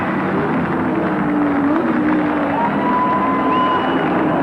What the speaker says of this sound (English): the crowd has erupted